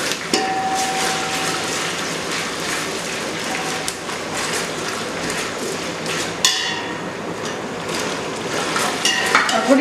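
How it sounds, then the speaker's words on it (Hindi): Potatoes frying in a pan with onion and ginger-garlic paste while being stirred, a continuous loud crackling sizzle with scraping and clanking from the spoon against the pot, no talk. "और थोड़ी देर इसे भूनेंगे।"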